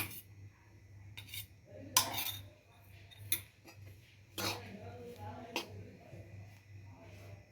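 A spoon scrapes and clinks against a pan as gram flour roasts in ghee for besan laddu. The scattered strokes and taps are fairly quiet and sit over a faint low hum.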